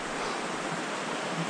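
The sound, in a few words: rushing high water of a raging creek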